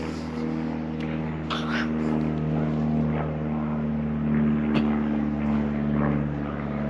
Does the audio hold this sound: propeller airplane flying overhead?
yes